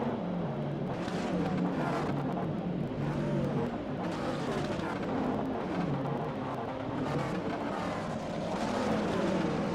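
McLaren 650S race cars in rFactor 2 at VIR, engines droning steadily together as the field rolls along the main straight toward the grid, continuous and fairly loud with swelling passes.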